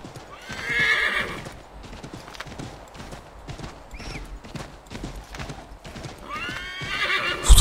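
In the video game Assassin's Creed 3, a horse whinnies loudly twice while hooves clip-clop in a steady close rhythm underneath.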